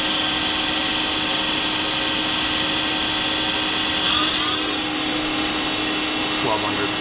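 A Daewoo Puma 300LC CNC turning center hums with its spindle running at 750 RPM, a steady loud mechanical drone with a constant whine, joined briefly by a sweeping tone shift midway.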